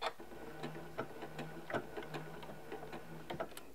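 A Janome M17 sewing machine runs a short burst of tacking stitches, giving a quick, even train of mechanical ticks and clatter at close range with no talking.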